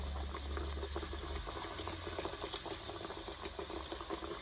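Bellappalu, a sweet Diwali dough fritter, frying in hot oil, giving a steady close bubbling sizzle throughout with faint crackles and no talk.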